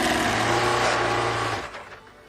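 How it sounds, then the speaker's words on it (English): A car engine holds a steady, loud drone with the revs kept up, then drops away and fades near the end; no talking. "keep the revs up enough to keep the engine running smoothly"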